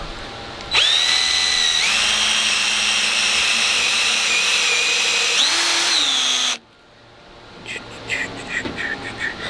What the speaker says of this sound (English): and then I can drill this hole right where that little